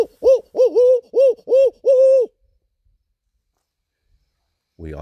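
A voice mimics a barred owl, giving a rapid string of rising and falling hoots ending in a drawn-out final note, loud and near, followed by silence.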